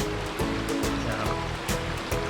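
A low-running mountain stream flows beside the Temple Fork Sawmill Trail, a continuous rushing, burbling wash of water that stays steady and fairly loud with no talking.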